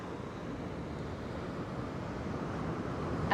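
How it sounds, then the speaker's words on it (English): Ocean waves heard as a steady, broad wash of surf noise, swelling slightly toward the end, with no voices. "Listen to the sound of the waves"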